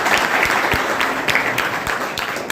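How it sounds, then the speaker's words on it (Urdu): An audience at a talk on teachers breaks into applause, a dense steady burst of many hands clapping, loud and close throughout the short stretch. "اتنی زور سے تالی بجاؤ کہ تائید ہو جائے"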